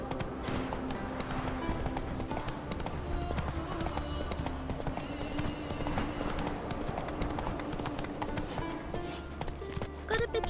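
Horse hooves gallop in The Witcher 3 video game with a fast, continuous clip-clop close up, loud throughout, under occasional spoken dialogue and a faint whinny.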